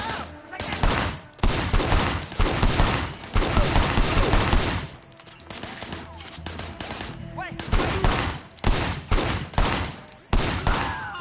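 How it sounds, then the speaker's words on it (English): Dense, loud bursts of rapid gunfire, shot from a car's passenger window in the video game Sleeping Dogs, crackle almost nonstop through the clip with brief gaps between volleys. "firing shots from the passenger window."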